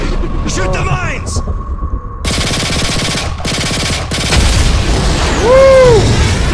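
Mines in Modern Warfare 3, on a submarine mission, are shot and explode. Loud rattling gunfire and heavy booms pile up over a constant low rumble, and the blasts swell toward the end.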